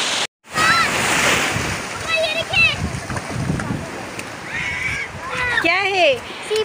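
Sea waves wash up on a sandy beach at Hawks Bay, Karachi, a steady rushing surf close by with people and children talking over it throughout.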